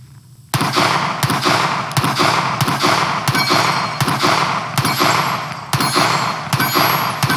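A Springfield Armory Prodigy 1911 pistol fires about nine sharp, loud shots at a steady rhythm, each crack ringing out after a brief quiet start.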